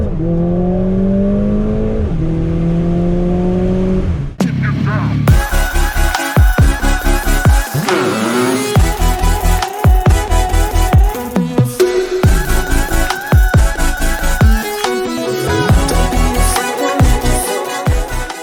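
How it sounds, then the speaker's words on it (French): Mercedes-AMG A45S (2020, 421 hp) held at a high rev, then launched hard with loud, rapid upshifts; the engine note climbs and cuts repeatedly at each gear change, close and dominant throughout. "Tu vas lancer un launch control, je vais fermer les yeux."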